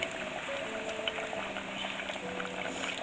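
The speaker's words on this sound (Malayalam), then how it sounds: "ഇനി നമുക്കിതിലേക്ക് പുളി ഒഴിച്ചു കൊടുക്കാം" Tamarind water added to a simmering pulinkary curry, a continuous bubbling, liquid hiss filling the short stretch with no talk.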